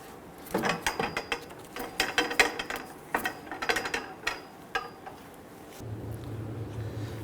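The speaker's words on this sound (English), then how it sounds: "We can now lower our jack and then install our wheel." A car jack is lowered beside a 2011-2017 Nissan Quest during a rear shock absorber replacement, with a run of sharp, close ratcheting clicks in uneven bursts, then a low steady hum near the end.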